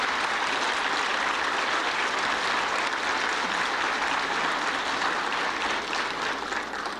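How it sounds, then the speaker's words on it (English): Sustained applause from a forum audience, a dense steady wash of many hands clapping that stays loud for several seconds and tapers slightly toward the end, with no talking over it. "Could we give them a special round of applause?"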